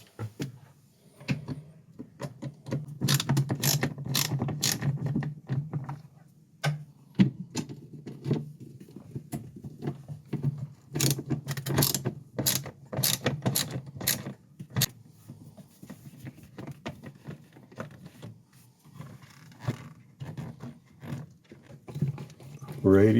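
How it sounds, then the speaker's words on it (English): Small metallic clicks and rattles from screws being taken out of a Norcold RV ice maker unit, scattered taps and jangles over a low hum, with someone speaking throughout. "we'll have to remove the screws underneath as well as those 2 on the back"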